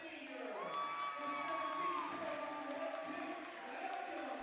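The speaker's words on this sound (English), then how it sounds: "Pollen leaves with 17 points and a great reception from the crowd" A crowd at a West Virginia high school boys basketball game between Capital Cougars and St. Albans Red Dragons cheers and shouts loudly for a departing player, with a steady roar of voices and scattered whoops.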